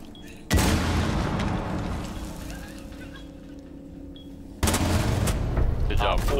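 Gunfire and a grenade blast in the Rainbow Six Siege video game, with a loud burst of shots that drops into a lingering rumble before a second sharp blast and more firing near the end.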